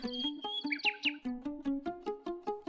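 A nightingale sings nearby in a quick, regular run of repeated chirping notes, with a few higher twittering flourishes near the start.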